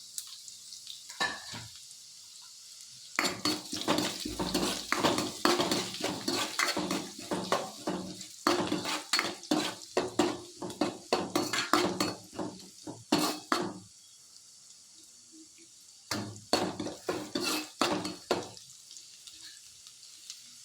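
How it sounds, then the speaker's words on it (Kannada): Ginger frying in a pan for capsicum fried rice, with bursts of loud sizzling and rhythmic metal spatula scrapes and clinks against the pan, broken by a few quieter pauses, and no talking. "ಈಗ ಶುಂಠಿ ಹಾಕ್ಕೊತಾ ಇದ್ದೀನಿ."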